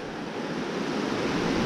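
Big Cedar Creek flowing into the Clinch River, a broad, steady rushing of water that stays close and fairly loud throughout, with no talking over it.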